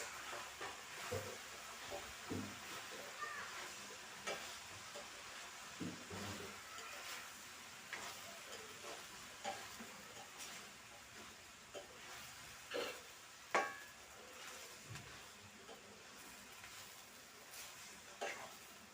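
Beef curry being stirred and fried in a pan, Sri Lankan kaliya style, with a steady low sizzle and hiss broken by repeated clinks and scrapes of the spoon against the pan, heard close up with no talk.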